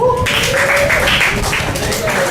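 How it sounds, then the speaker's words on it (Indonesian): A group of police cadets claps together in a classroom during an interpersonal-skills training session, a steady, dense patter of hands lasting a couple of seconds with voices mixed in. "Udah terjawab, pinter ya, tepuk tangan dulu."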